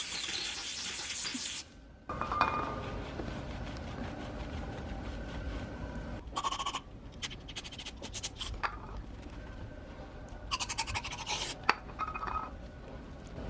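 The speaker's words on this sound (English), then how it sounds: "we'll blast it with the brake cleaner and try to get as much of the stuff forced out as we can" Brake cleaner hisses in long, steady blasts through a Vanos solenoid from a BMW E46 M3 S54 engine. A continuous close spray is broken by short pauses and faint clicks and knocks of handling.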